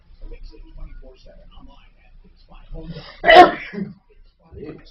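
One sharp, close sneeze bursts out between stretches of talk on a live stream, loud and brief against the quieter voices around it.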